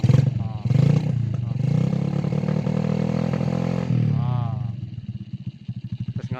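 A motorcycle engine revs loud and close, holding a steady roar with rising pitch sweeps before dropping to a pulsing, throbbing idle, as riders head home carrying two sacks.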